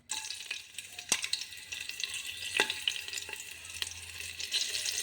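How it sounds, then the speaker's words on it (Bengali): Whole garam masala, green chilli and bay leaves frying in hot oil for a mutton handi, a steady close sizzle with scattered sharp crackles and pops throughout, no voices. "দেখুন এবার আমি গোটা গরম মশলা, লঙ্কা, তেজপাতা অ্যাড করে দিলাম।"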